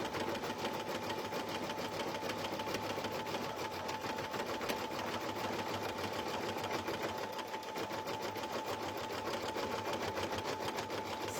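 An embroidery machine stitches an in-the-hoop slap bracelet with a rapid, steady mechanical whirring and needle chatter, an unbroken even rhythm at close range that carries on without a break.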